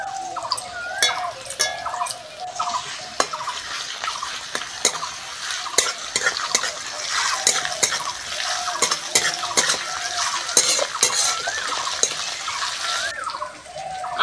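Ginger, garlic and onion frying in a pan for a fish curry, a continuous sizzle broken by frequent sharp clicks of a spoon stirring against the metal, close and steady with no talk.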